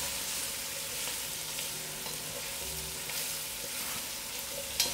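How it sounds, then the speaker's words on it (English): Chicken feet with gram dhal fry in a pan, giving a steady, close sizzle with light stirring throughout and no talking. "Now that it's frying, I'm going to add in my tomatoes"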